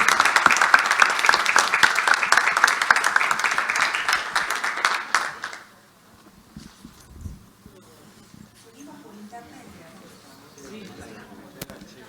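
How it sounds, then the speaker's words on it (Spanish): An audience at a panel discussion on complex social conflicts gives a dense, steady round of applause for about five seconds, then it stops abruptly and leaves only quiet room noise and faint stray sounds. "Le damos un fuerte aplauso y los despedimos."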